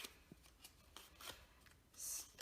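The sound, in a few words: paper being folded and creased for a paper boat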